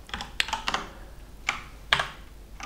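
Sharp, uneven keystrokes on a computer keyboard at close range, a few quick clusters of clacks with short pauses between, no talking over them.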